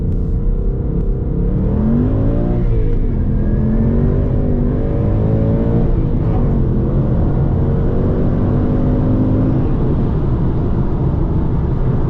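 A Ford Mustang pulls hard on a cold, windy road, its engine note climbing steadily through the gear with a loud, close, continuous roar and a short shift dip partway through.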